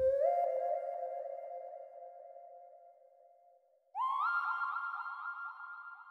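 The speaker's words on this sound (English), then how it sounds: "it's a lead by Mike Fuego, and it's from his Spectre Analog Lab bank right here" A synth lead preset by Mike Fuego from his Spectre bank for Analog Lab plays two long sustained notes, the second stepping higher and louder, bright and clean with nothing else behind it.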